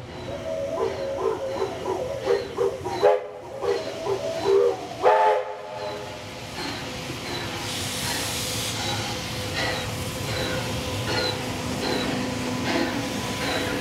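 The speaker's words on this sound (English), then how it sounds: "We see 3237 leading the train to Richmond after one of its shuttles to Mulgrave" Steam locomotive 3237 hauls a shuttle train toward Richmond, its exhaust chuffing and rumbling at a moderate distance, with a whistle call and a long steady hiss of steam following.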